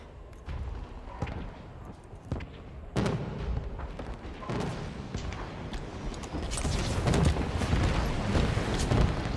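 Rocket explosions and gunfire in a Halo 5 skirmish match, a dense battle din of booms and blasts that grows louder and busier toward the end.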